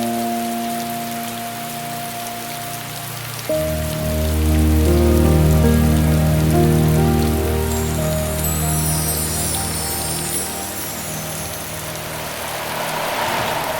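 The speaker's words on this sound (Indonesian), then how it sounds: "Air hujan itu kotor." Rain falling steadily on a surface, an even hiss and patter that runs the whole time, while a car engine hums and sustained background music tones sit underneath.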